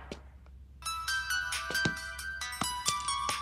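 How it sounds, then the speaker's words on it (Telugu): A mobile phone ringtone starts after a moment of near quiet and plays a bright, melodic chiming tune over a low background hum, close and fairly soft. "మా అక్క దగ్గర నుంచి ఫోన్ సార్."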